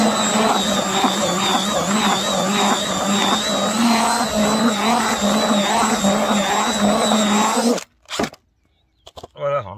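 Electric mixer churning fishing groundbait in a bucket, a loud steady whining motor drone for about eight seconds that cuts off abruptly, followed by brief clatters and near silence.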